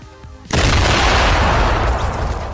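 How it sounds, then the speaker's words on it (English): A grenade goes off in Fortnite with a sudden loud boom that rolls into a long, roaring rumble, cutting across quieter game sounds. "The grenade explodes right when he points his finger down with his hand signals emote"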